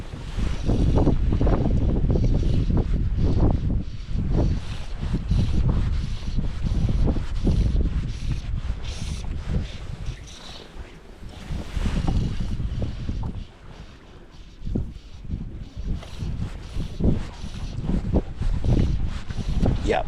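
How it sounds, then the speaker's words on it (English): Southwest wind blowing across Lough Conn during brown trout fishing from a boat, loud steady buffeting and rumbling wind noise with water slapping, continuous throughout, with faint talk underneath. "Southwest wind today, which is an excellent wind for this bay."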